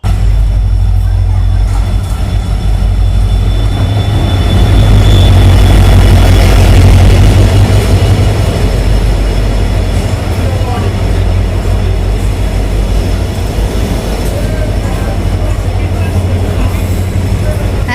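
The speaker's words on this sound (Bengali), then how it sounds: "নিউ তিনসুকিয়া যাওয়ার জন্য ট্রেন এসে যাচ্ছে।" A train pulling into a station platform, bound for New Tinsukia in Assam; a loud, low rumble of wheels and engine rolls steadily throughout, with a voice speaking faintly beneath it.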